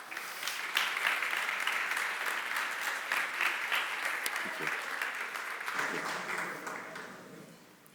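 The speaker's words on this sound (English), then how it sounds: "Round of applause, please." A conference audience applauds a volunteer coming on stage, a lively dense clapping that peaks early and gradually thins, with a voice speaking over the end.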